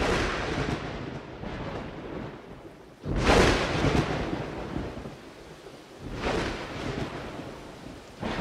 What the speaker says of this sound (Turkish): Bu nasıl bir şimşek efekti ya?